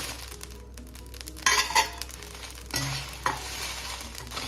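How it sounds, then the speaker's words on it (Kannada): Dried red chillies roasting with cumin in a pan for puliyogare gojju, with soft sizzling and a few stirring scrapes and clinks of a utensil against the pan, close and moderately loud. "ಅದಕ್ಕೆ ಮೆಣಸಿನಕಾಯಿನ ಜೀರಿಗೆ ಜೊತೆನೆ ಹುರ್ಕೋತಾ ಇದ್ದೀನಿ."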